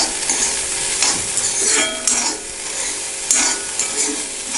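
Chopped bitter gourd with salt sautés in a pan, bright sizzling and repeated stirring scrapes of a spoon against the pan, close and continuous with no talking.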